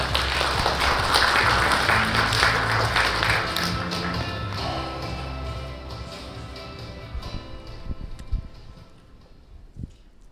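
An audience at a youth digital mental health forum at a university applauds to welcome the university president, loud dense clapping that thins into scattered claps and taps before dying away.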